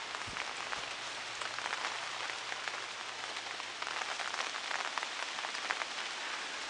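Steady, dense rain patters on a garden of gardenias and anthurium during Hurricane Lane on Maui, a continuous close wash of drops with no voices.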